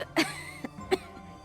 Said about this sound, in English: Miss Wangjun, you're coughing harder than you were before.